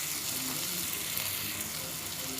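A creamy chicken and mushroom pie filling bubbles and sizzles in a pan as it is stirred, a steady close frying hiss with no talking.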